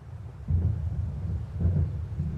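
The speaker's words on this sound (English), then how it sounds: "It seems there's a storm coming." Low rumbling thunder from an approaching storm in the video game Alan Wake, two deep rolling swells about a second apart, moderately loud with no voices.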